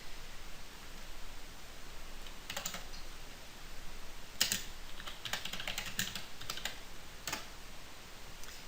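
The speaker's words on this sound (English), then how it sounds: "If you just start typing" Bursts of typing on a computer keyboard during nurse training charting, clusters of quick key clicks separated by pauses over a steady background hiss, fairly close and moderately loud, with no talking.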